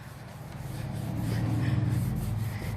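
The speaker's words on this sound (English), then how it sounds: "you want to rub off any excess" A cloth rubs excess gel stain off a wooden dinner table, a soft steady scrubbing sound, close and quiet, with no voices.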